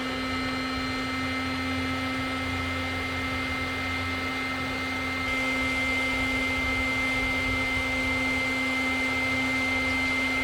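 Electric air pump inflating an Aldi paddle board, a steady motorized hum with a constant tonal whine throughout, growing slightly louder partway through, with no talking.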